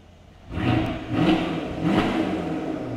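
A Mercedes-Benz S550 Coupe AMG Line engine blips from a quiet idle into two or three strong revs, each rising and easing back, close and loud with no voices over it.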